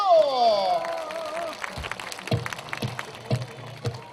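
Audience applause at an outdoor music festival in Hongseong, starting after a tone fades, with scattered sharp claps building into a steady round at moderate distance.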